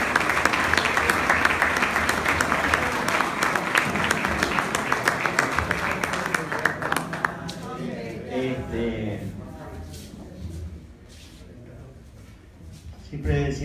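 Crowd applause at a municipal gathering with the mayor and union members, dense clapping for about seven seconds that fades as talk takes over and continues under speech.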